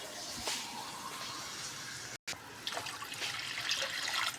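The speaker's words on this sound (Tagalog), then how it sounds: "Lagyan natin guys ng tubig" Water pours into a cooking pot for boiling pancit bato noodles, a steady close splashing and trickling stream with a brief break midway, no talking.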